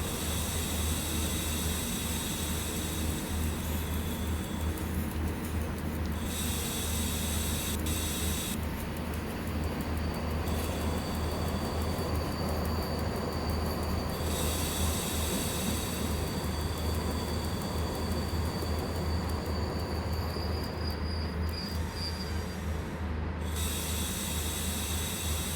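A PKP ET22 electric locomotive in the SimRail train game slows down with a continuous loud mechanical rumble and hiss, steady throughout with shifting high-pitched brake noise in the cab.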